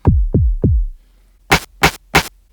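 A few low decaying thumps, then three short, bright rim shot hits from a sampler in a Eurorack modular synth setup, in a steady rhythm, crisp and close with nothing else playing.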